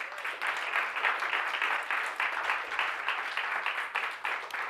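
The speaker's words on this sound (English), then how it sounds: "Give the Lord a hand clap of praise." Church congregation clapping hands in praise, a rhythmic, fairly faint burst of many hands beating together in pulses, with no voices over it.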